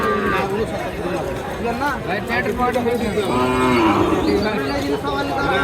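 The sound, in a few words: cattle mooing at a livestock market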